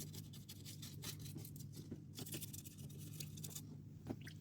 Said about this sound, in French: on prend une brosse à dents, on frotte délicatement